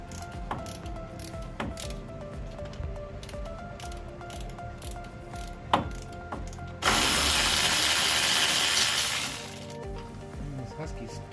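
Husky ratchet clicking in bursts while working on the brake rotor of a Chevrolet S10 Blazer LS, close-up and crisp, interrupted partway by a loud rushing noise lasting a few seconds.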